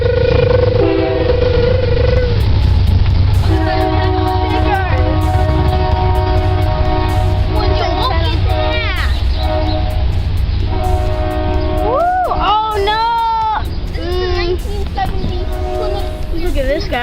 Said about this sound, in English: No, the train!